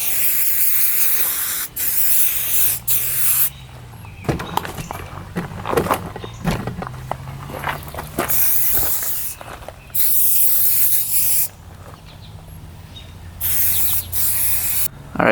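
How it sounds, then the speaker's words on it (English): Aerosol spray can hissing in several separate bursts onto the fender of a used 4x4 UTV, close and loud, with short quiet gaps between sprays. "I sprayed this, that, right here, right in there."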